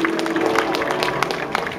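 Crowd cheering and applauding at a 1/12th scale RC car race, a steady roar of voices and clapping kept up for the whole moment as drivers are introduced.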